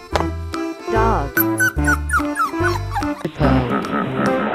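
Cartoon dog barking and yipping in a playful animated animal sequence, a run of short bouncy barks over music, with a brief whimper-like tone and lively background sounds following.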